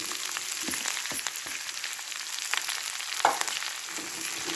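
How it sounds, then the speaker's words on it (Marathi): Stuffed brinjal and potato stir-fried in hot oil, a steady close sizzle with a few sharp pops and spatters of stirring running through, no voices. "आणि परतवून घ्यायचं व्यवस्थित तेलामध्ये"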